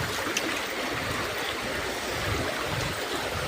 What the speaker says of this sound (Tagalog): nandito na kami sa Sapa